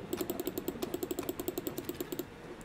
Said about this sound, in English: If you can hear all my clicking,